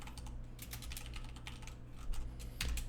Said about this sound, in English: And then we can type in our next pair